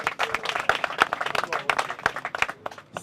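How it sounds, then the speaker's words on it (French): An audience in an evening gathering breaks into scattered clapping, close and somewhat uneven, with murmuring voices underneath. "merci d'applaudir"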